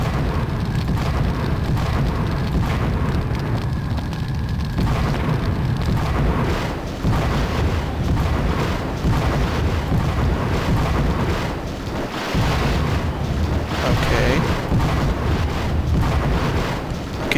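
Ship cannon fire in the pirate video game Redjack: Revenge of the Brethren, a continuous heavy rumbling roar of booms and blasts that stays loud throughout, with no talk over it.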